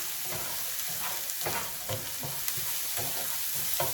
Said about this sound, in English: scrape the bits and pieces off the bottom of the pan